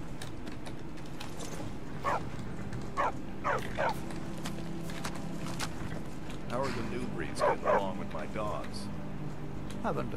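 Dogs at the Markarth stables in the video game Skyrim bark in short clustered bursts, two volleys a few seconds apart, over a steady ambient background with a voice talking.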